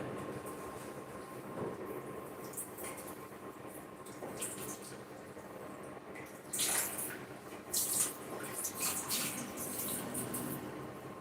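A kitchen utensil for hand-blending pepper is rinsed under running water, a steady rushing splash with louder bursts of spatter partway through; no voices.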